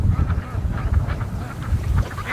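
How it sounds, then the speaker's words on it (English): Ducks quack in a busy, overlapping cluster close by, short rough calls repeating over a low wind-like rumble. "Oh, there comes my ducks."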